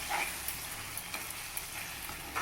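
Prawns and cashews frying in oil, cooked ghee roast style, produce a soft, steady hiss with faint crackles, heard alone and fairly quiet.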